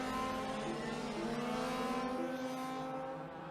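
A large-scale model race car in an Australian nationals final passes with a bright, steady high-revving engine whine that swells and slightly shifts pitch, fairly close and loud, with no talk over it.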